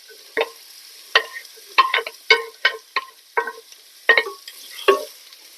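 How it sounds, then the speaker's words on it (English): Finely chopped celery, carrots and onion sautéing in butter in a pan, stirred with a utensil that makes a string of short, distinct scraping clicks in an uneven rhythm, close and moderately loud. "I'm going to saute those in 2 tablespoons of butter"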